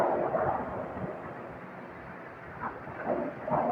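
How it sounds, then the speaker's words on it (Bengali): Strong gusts from Cyclone Remal roar and buffet steadily outdoors, a dense rumbling rush that swells near the start and again toward the end. "মানে অতিরিক্ত বাতাস,"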